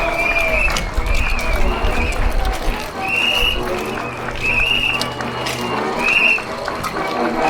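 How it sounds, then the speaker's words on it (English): Crowd applause from supporters at a National League speedway meeting, Isle of Wight Warriors versus Stoke Potters, heard as a broad steady wash of clapping and cheering, with a tonal whine rising and falling over it. "Thank you for your applause"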